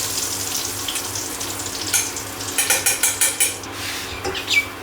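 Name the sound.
pork ribs frying in oil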